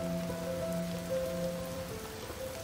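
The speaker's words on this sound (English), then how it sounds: "The rains have come." Steady rain falls outdoors at Stowe Gardens, a soft even hiss that holds throughout, with faint steady tones sounding underneath.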